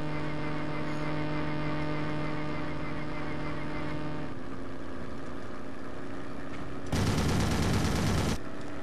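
Video game gunfire: a dense, loud burst of shots roughly two seconds long near the end, after a stretch of steady tonal hum and ambient game noise.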